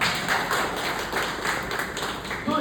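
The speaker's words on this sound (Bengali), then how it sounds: "জাহানারা আপার জন্য একটা করতালি দেন না আরেকবার।" Applause for Jahanara at an insurance company orientation event, a steady crowd clapping that carries on through the whole short stretch at moderate loudness, with no one speaking.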